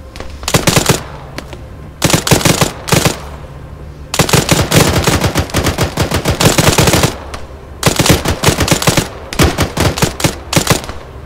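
Bursts of automatic gunfire from the Arma 3 military shooter game, with loud, rapid rattling volleys in several clusters separated by short pauses, close and dominant with no talk.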